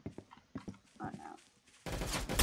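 Rapid gunfire in the Roblox game Arsenal, a string of sharp close shots followed by a loud sustained burst near the end.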